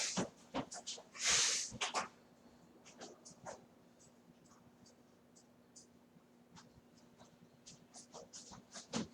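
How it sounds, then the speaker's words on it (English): A person blows their nose with a couple of loud honking bursts, followed by quiet sniffles and rustling. "Blowing my nose."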